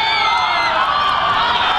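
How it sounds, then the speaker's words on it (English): A rowdy crowd at an international polo final in Manipur, India versus Argentina, cheers and shouts in a dense, loud, continuous roar. "We have a rowdy crowd here."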